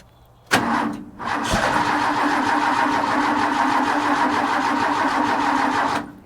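A Ford 300 straight-six in an old bullnose truck, just converted from a one-barrel to a two-barrel carburetor, cranks briefly, catches after a short pause, then runs at a loud, steady idle before shutting off.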